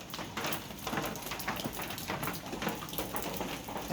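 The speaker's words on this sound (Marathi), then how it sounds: "इकडे पण पाऊस सुरू आहे." Rain falls steadily at night, a dense unbroken hiss with fine pattering drops, close and fairly loud throughout with no voices.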